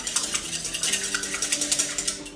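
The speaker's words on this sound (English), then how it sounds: "we're going to quickly uh, whisk that up" A single egg whisked quickly in a bowl for pumpkin oat pancakes, a rapid, even clicking rhythm of a utensil beating against the bowl, close and alone.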